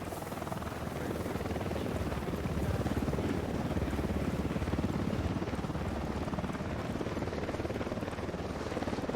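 Video game helicopter from Ghost Recon Wildlands, a continuous loud rotor thrum and engine roar that holds steady throughout, close and unbroken, with no voices.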